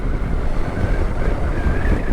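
A 2023 Zero DSR/X electric motorcycle is ridden at speed, with loud, rumbling wind rush dominating and a faint, rising electric motor whine threaded through the noise.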